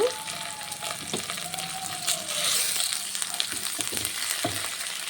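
Onions with cloves and cinnamon frying in a pan for chicken curry, a steady close hiss and crackle of sizzling oil throughout, with a few faint clinks and a thin background whine.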